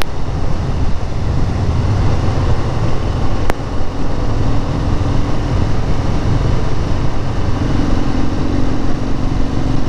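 Wind buffets steadily on a 2019 Harley-Davidson FXDR with no front fairing while riding, a loud, rumbling roar with the engine droning underneath and one sharp click partway through.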